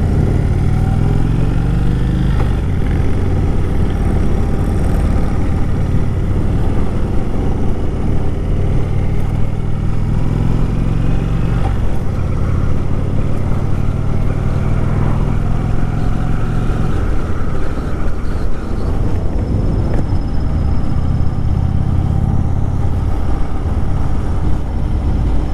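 A 2018 Indian Chief Dark Horse bobber with a stage 1 upgrade runs steadily up close, its deep, loud V-twin rumble holding for the whole stretch with a few swells in engine note.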